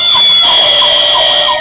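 A diecast Detroit Fire Department aerial ladder truck toy sounds its electronic siren, a loud, close, steady high-pitched wail with a faint warble and no voices.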